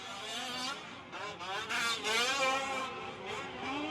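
Fifth-scale RC trucks racing in an M15 class main event at Fear Farm, a pack of small engines whining loudly together in wavering, rising and falling pitch, with revs surging as they pass close by.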